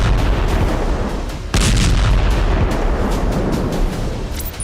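Loud, continuous rumbling blasts and cracking bursts from a Hezbollah missile attack striking Israel, with heavy booms and sharp reports layered over a dense roar and a sudden surge in intensity partway through; no voices.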